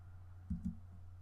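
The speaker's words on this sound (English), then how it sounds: "I'm going to unlock the lock button by clicking right here in the lower left" A computer mouse clicks twice in quick succession while working in Cricut design software, soft, close and short against a faint background hum.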